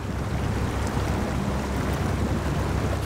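A steady, dense rush of churning water with a low engine-like rumble beneath as a truck moves through water in SnowRunner, constant and close throughout.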